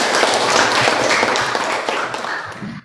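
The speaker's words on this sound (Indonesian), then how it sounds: "Tepuk tangan lagi." A classroom of junior high school students breaks into dense applause, a loud, continuous wash of many hands clapping together that holds steady for a few seconds before starting to fade.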